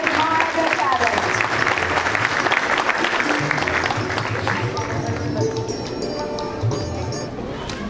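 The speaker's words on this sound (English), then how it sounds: "Keep clapping to let them know how much we admire their talent." A school audience applauds a musical Ramayana performance with steady, dense clapping that starts loud and tapers slightly toward the end, with a murmur of crowd noise underneath.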